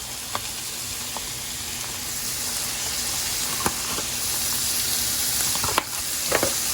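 Shallots with salt and fresh thyme frying in a pan over low-medium heat, a steady close sizzle with occasional clicks and light stirring taps throughout.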